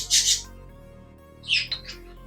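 Budgerigars let out two short bursts of harsh, high squawks and chirps, separated by a quieter stretch with a low steady hum underneath.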